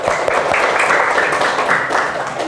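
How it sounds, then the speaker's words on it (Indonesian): Students in a classroom clap together during a lesson: a short, steady burst of group clapping, fairly loud and close, lasting a couple of seconds. "Ya, tepuk tangan."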